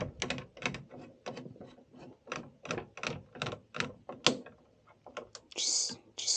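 A screw being driven into place on a Culligan water softener, heard as a rapid series of close, crisp mechanical clicks in short irregular bursts, with brief pauses between turns.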